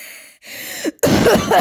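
A person coughs hoarsely while ill with a cold, giving a short throaty hack and then a louder burst of rough coughing close up.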